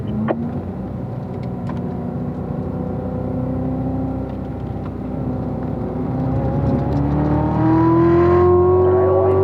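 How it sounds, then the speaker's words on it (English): A race car's engine running steadily on a racetrack while downshifting to third gear for tight corners, a loud continuous drone whose pitch climbs gently toward the end. "All right, let's get down to third gear here."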